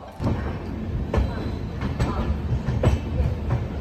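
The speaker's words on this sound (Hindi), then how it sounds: "ट्रेन अमृतसर रेलवे स्टेशन से अब निकल चुकी है" A passenger train pulls out of Amritsar railway station, its wheels clacking rhythmically over rail joints with a steady rolling rumble heard from inside a carriage, plus faint background voices.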